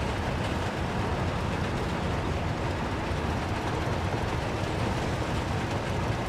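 A train rolls along steadily in the city-building game Workers and Resources, a constant broadband rumble with faint rhythmic rail clatter, close and unbroken, with no voices.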